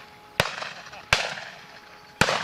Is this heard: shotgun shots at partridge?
yes